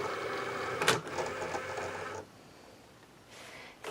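A Cricut cutting machine loads a cutting mat carrying red vinyl, giving a close mechanical whir with a sharp click near the start that runs for about two seconds, then a quiet pause and a brief motor burst at the end.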